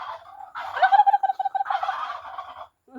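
A Batangas rooster on a farm in Igbaras, Iloilo lets out one long, loud, ragged crow close by, rising and wavering across several pulses before fading out.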